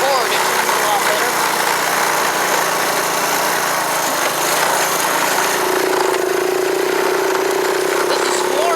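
A small engine runs steadily after a cold start, a continuous buzzing drone that holds fairly loud throughout, with a slight rise in pitch toward the end.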